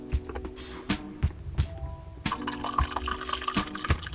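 Coffee poured from a container while making an Old Hob figure, a trickling liquid fill with intermittent thunks and drips close by, no talk.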